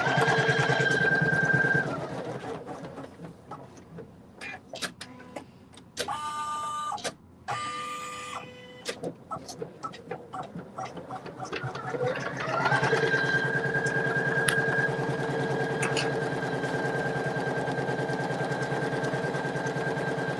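A Poolin single-needle embroidery machine stitches tack-down and satin stitches. Its loud mechanical whirr and rapid needle tapping run steadily, break into choppy stops and restarts midway, then settle back into a constant hum.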